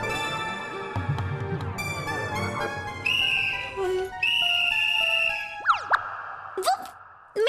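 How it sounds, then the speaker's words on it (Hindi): A whistle in a Hindi TV comedy scene, heard as several rising and falling tones and sustained whistled notes amid musical sound effects, moderately loud and close, with no talk over it. "ये सीटी"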